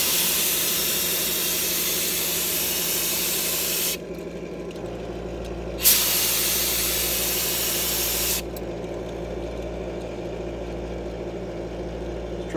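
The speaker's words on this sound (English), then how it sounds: "Kind of hard to talk with a respirator on and the air compressor running in the background" Loud steady hiss of a spray gun spraying glaze onto porcelain, cutting on and off twice, over the constant drone of an air compressor running nearby.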